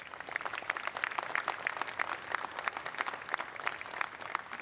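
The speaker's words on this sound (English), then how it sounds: "Let's give them a round of applause." An audience at the FDNY Medal Day ceremony applauds with steady, crisp clapping from many hands, sustained evenly throughout with no talk over it.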